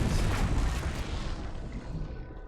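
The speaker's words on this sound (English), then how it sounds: "Who doesn't like a giant explosion?" A giant explosion in the video game Mass Effect 3 roars as a dense, sustained rumbling blast, loud and continuous with heavy low-end debris noise, gradually thinning toward the end.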